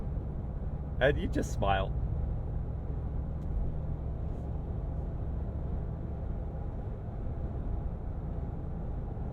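A 2022 Mercedes-AMG G63 with 577 hp drives along, its engine and exhaust a low, steady rumble from inside the cabin, while someone talks briefly near the start.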